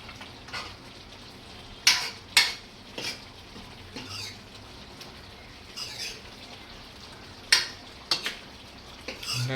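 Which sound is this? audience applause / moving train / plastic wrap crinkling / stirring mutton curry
stirring mutton curry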